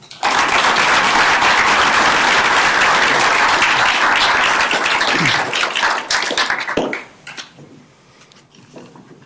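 Loud, dense applause from a conference audience fills the room to welcome two speakers to a fireside chat on responsible AI in global business, then thins out and fades near the end.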